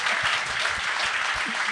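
Studio audience applause on a talk podcast, a brief steady wash of clapping with faint low voices underneath.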